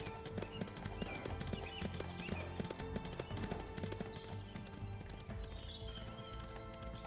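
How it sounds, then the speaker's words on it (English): Rapid, steady hoofbeats of a galloping horse in the video game Windstorm: Start of a Great Friendship Remastered pound on without pause, close and loud, with a busy layered game soundtrack underneath. "This is one fit horse, I'll tell you that."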